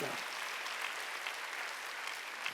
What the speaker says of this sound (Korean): 믿으면 박수야